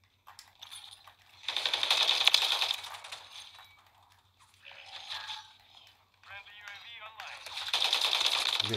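Rapid automatic gunfire from a Call of Duty Modern Warfare 3 match crackles in dense bursts, loud near the start and again at the end, with a quieter stretch of scattered shots and game effects between.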